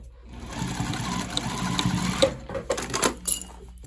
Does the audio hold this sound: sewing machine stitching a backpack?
yes